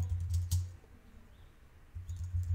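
A short burst of typing on a computer keyboard while a search is entered on Amazon, the keys clicking close and quick at the start and again at the end, with a quieter pause between.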